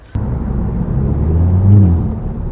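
Volkswagen Golf GTI Mk7.5 heard from inside while driving, a low steady engine and intake drone that swells slightly with throttle, with road rumble underneath.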